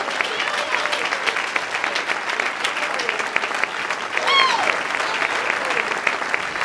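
Church congregation clapping their hands in praise, continuous rhythmic applause from many people with voices calling out and a brief high shout near the middle.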